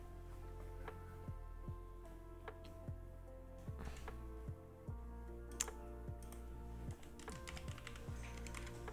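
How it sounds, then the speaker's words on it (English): A baby bangs on a computer keyboard, producing irregular clusters of clacking key hits against a steady low electrical hum, close and fairly soft, with no talking. "the baby likes hitting the keyboard"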